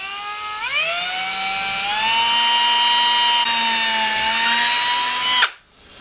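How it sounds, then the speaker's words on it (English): A drill fitted with a roughly 3mm bit bores a pilot hole in a shed build, a loud, close, steady high whine that rises slightly in pitch as it spins up, runs about five seconds, then cuts off abruptly. "which is about a 3mm drill, and just run that in at right angles"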